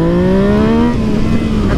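Loud, close CycleCruza ride pulling hard off the line, engine note climbing steadily as it accelerates, with a low rising drone that holds strong for the full stretch and no talking.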